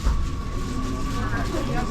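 Low rumbling ride inside a moving metro-style train carriage in Amsterdam, with a steady hum and a faint high whine running throughout, while people talk faintly in the background.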